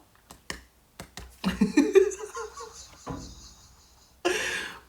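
A handful of sharp, separate hand claps ring out close by, then a person starts talking, followed by a sudden burst of noise near the end.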